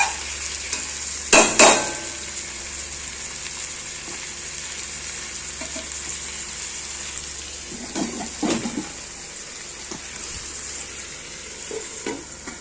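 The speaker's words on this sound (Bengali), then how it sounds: "চিকেনটা নাড়তে হবে" Chicken frying in a pan for korma, with a quiet steady sizzle broken by a sharp burst of stirring near the start and softer scraping stirs later on.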